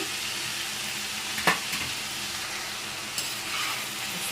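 Gurugaku leaf curry is stirred in a frying pan, with a constant soft sizzle underneath. A couple of brief scraping strokes from the spoon stand out close and clear against the hiss.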